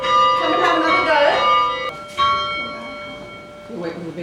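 Heavy church bells at Swan Bell Tower in Perth, Western Australia, rung by rope: two clear bell strikes ring out with long, humming overtones, close and loud, while people talk nearby.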